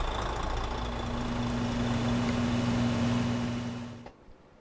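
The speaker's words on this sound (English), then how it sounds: "I'm changing the engine sound." A heavy truck engine idles in American Truck Simulator, a steady low rumble with a constant hum that suddenly cuts off near the end, followed by quiet.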